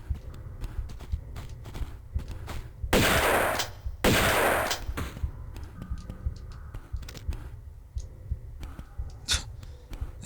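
Shotgun enemies firing in the Tomb Raider Remastered game: two loud, broad blasts in close succession amid steady clattering game sounds and footsteps, with scattered sharper clicks and hits.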